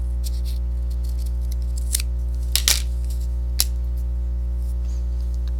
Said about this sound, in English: Now I'm going to use the scissors to cut at the other end through all those threads.